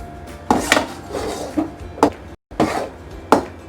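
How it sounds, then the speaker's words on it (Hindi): Gram flour roasting in ghee is worked around a pan, giving irregular scraping and knocking strokes, fairly close and loud, with a brief silent gap midway. "अब ये लगातार इसको चलाते जाना है। जब ये घी छोड़ देगा तब तक इसको हमने भूनते जाना है।"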